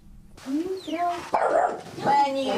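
A dog barks and yips several times in quick, uneven bursts, loud and close, with whimpery rising tones between barks at a home where a soldier is leaving.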